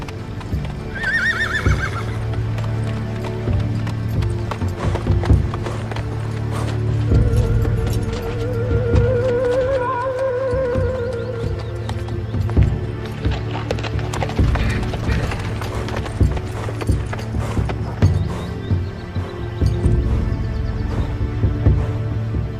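A horse neighs and whinnies near the start, then its hooves clip-clop steadily over a low continuous rumble, in a frontier setting on the prairie.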